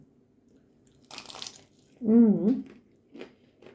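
A single brief crunch of teeth biting into crisp, crunchy lavash, followed by a short murmured voice and quiet chewing.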